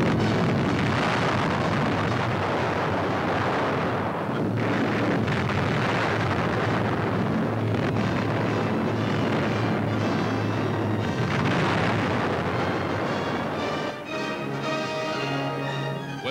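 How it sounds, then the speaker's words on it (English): Bombs dropped from a military aircraft on a suspected enemy raider in the Atlantic explode at sea in World War II newsreel footage, giving a loud, continuous roar of blasts and rumbling, wind-like noise with no speech. "The presence of an enemy raider is suspected. The commander orders, bombs away."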